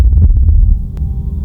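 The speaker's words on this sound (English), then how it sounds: "turn up the volume. You can hear a heartbeat." Rapid low thumping like a heartbeat from a Stranger Things scene where Eleven is pulled into a black hole, a quick series of deep pulses that fades after half a second under a low hum, followed by a single sharp click.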